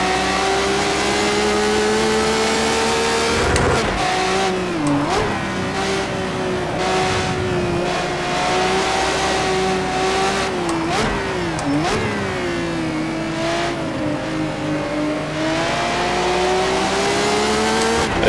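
Race car engines rev and strain in the Project CARS 2 racing game, a loud continuous drone whose pitch climbs and drops with gear changes and throttle lifts, with occasional tire noise and no talking.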